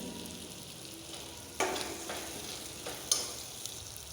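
Soft sizzling of vegetables sautéing in a pan for Tamil kara kuzhambu, with a few scraping stirs of a spatula, close and quiet, no voices.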